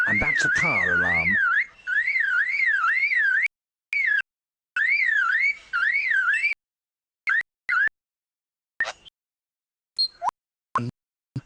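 A lyrebird mimics a car alarm with loud, close bursts of regularly wavering whooping tones, separated by pauses, before trailing off into scattered clicks and chirps.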